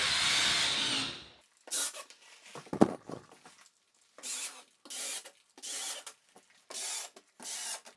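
A power drill drives screws into a fragile wainscoting panel, a series of short whirring bursts separated by pauses and preceded by a longer run, close and alone.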